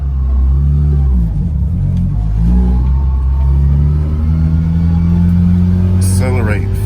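A car engine revs and pulls under acceleration on a quiet neighborhood street near a park, its low rumble rising in steady harmonics, loud and close, with people talking over it throughout.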